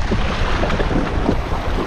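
Steady wind buffets the microphone at a shallow, isolated Palawan fishing spot by the sea, a loud continuous rush with faint wave wash underneath and no voices.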